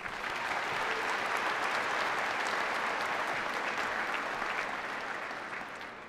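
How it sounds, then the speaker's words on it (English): Sustained applause from a large crowd at a 2018 high school graduation ceremony, a steady wash of clapping that holds for several seconds before easing slightly at the end. "Let's please give him a round of applause."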